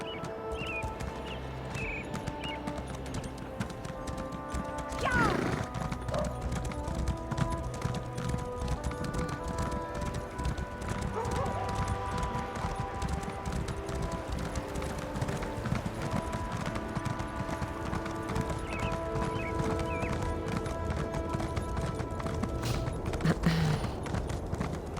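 Horse hooves clip-clopping steadily in The Elder Scrolls Online, a continuous rhythmic trot close up over game music, with a brief louder burst near the start.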